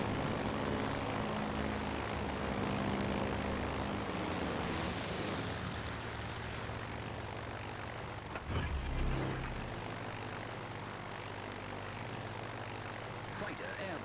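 Propeller engines of torpedo planes in World of Warships Legends drone loudly and continuously, the pitch sweeping as the aircraft launch, with a brief whoosh midway before settling into a lower steady hum.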